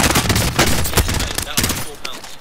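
Gunfire in Call of Duty: Modern Warfare sounds as loud bursts of rapid shots, close and punchy, with several sharp cracks in quick succession over battle noise.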